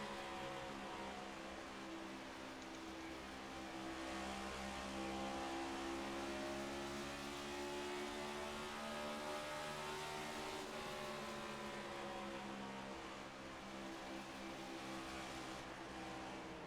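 Onboard a race car lapping Dover Motor Speedway in a Fast N Fun Cup Series race, the engine drones and rises in pitch with steady harmonic whine, continuous and close, with no talk.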